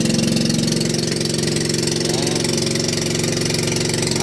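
A boat engine idles steadily on a fishing trip, a loud, close, even mechanical throb with a fast regular pulse that holds unbroken throughout.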